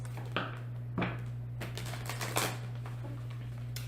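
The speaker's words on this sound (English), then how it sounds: "Shuffle the cards." Tarot cards being shuffled give a few quiet, crisp riffling bursts at uneven intervals over a low steady electrical hum, with no voices.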